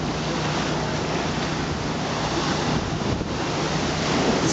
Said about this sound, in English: And as you can see, waves are breaking against the seawall.